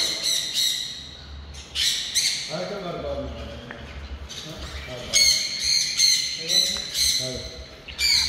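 Parrots squawk repeatedly in a busy Dubai bird market, with harsh, shrill calls bursting in irregular clusters close by over a steady background hum.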